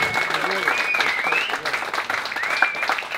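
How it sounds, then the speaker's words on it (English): Audience applause fills a blues band concert, a sustained dense clapping from the crowd with a voice speaking over it. "Applause."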